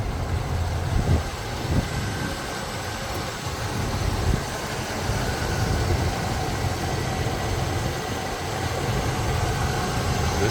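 A 1977 Pontiac Grand Prix with the 301 engine idles with the hood open, giving a steady, low, even rumble close by with no talk over it.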